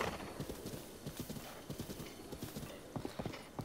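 Horse hooves clip-clop in a rapid, uneven rhythm in Zelda: Breath of the Wild, with a neigh mixed in, close and fairly quiet, with no talking.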